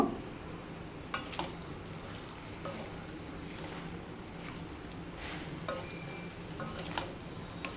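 A spoon stirs kadai masala powder through a potato and capsicum curry in a pan, giving soft, steady scraping and sizzling with a few sharper clinks against the metal, close by and with no one speaking.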